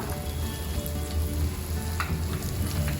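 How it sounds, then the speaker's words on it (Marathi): Pomfret fish coated in rice flour fries in hot oil over a high gas flame, giving a steady, close, vigorous sizzle with crackling pops throughout and no voices. "मच्छी तळताना नेहमी मोठ्या गॅसवर, जास्त गॅस स्लो नाही करायचा।"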